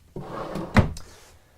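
Large drawers in the kitchen of a 2018 Keystone Summerland 3030BH bunkhouse travel trailer sliding open and shut, with a rolling rumble and a sharp knock as one closes, close and alone.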